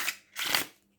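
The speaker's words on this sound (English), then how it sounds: "I can like riffle and bridge it really pretty easily" A deck of bendy linen-stock tarot-style cards is riffle shuffled up close, giving two quick fluttering bursts of rapid card flaps, the second longer and louder, then silence.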